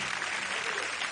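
Applause from a television studio audience, a dense, even wash of clapping that fills the moment without pause.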